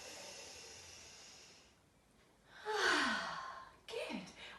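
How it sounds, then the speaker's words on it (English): Two deep, audible breaths drawn in through the nose during a springtime yoga session, the first longer and stronger, the second shorter, close and fairly loud with no talking. "One more time, big sniff."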